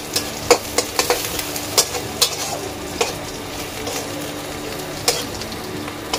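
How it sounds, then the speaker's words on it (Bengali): Sliced onions sizzle in a pan with a pinch of salt, a continuous close frying hiss broken by regular scraping and tapping strokes of a spoon, with no voices. "লবণ দিলে পেঁয়াজটা নরম হয়ে যাবে, ভাজাটা তাড়াতাড়ি হয়ে যাবে।"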